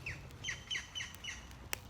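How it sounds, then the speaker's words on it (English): A woodpecker gives a quick series of five or six sharp, squawking calls in steady rhythm, fairly faint against a soft outdoor background. "Woodpecker."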